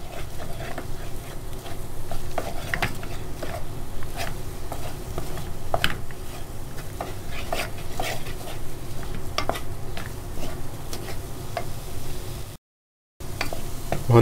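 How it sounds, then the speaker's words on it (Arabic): Choux pastry dough stirred in a pot with a wooden spoon on the stove: a continuous low bubbling sizzle with soft irregular taps and scrapes of the spoon, close and steady, and one brief silence near the end. "وهنبدأ نقلبه معلقه خشب. لحد ما يستوي معانا خالص."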